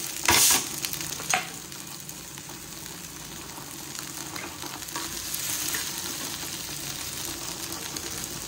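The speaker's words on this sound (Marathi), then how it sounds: "सगळं व्यवस्थित मिक्स करायचं, 2 मिनिट हलवायचं." Potatoes frying with onion, tomato and spices, stirred in a pan: a steady close sizzle punctuated by a couple of sharp clinks of the spoon near the start.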